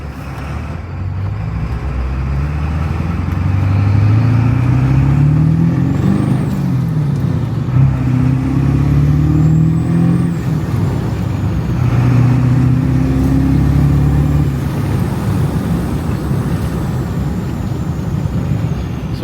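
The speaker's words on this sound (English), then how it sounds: "You guys can hear what it sounds like. I'll roll down the windows a little bit so you guys can hear the exhaust." A tuned Ford 7.3 Powerstroke diesel truck with a straight pipe exhaust and a turbo accelerates along a straight road, its loud, deep engine drone rising through gears with turbo whistle, heard from inside the cab.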